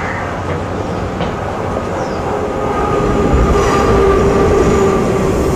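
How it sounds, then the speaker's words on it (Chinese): A train rumbles past near Shuangxi in rural New Taipei, a steady loud rolling roar that swells toward the end, with faint wheel squeal and no voices. "火车。"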